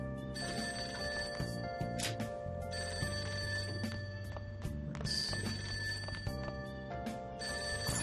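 A telephone rings in repeated bursts over a soft melodic music loop in the video game Persona 5, the electronic trill sounding clearly with short pauses between rings.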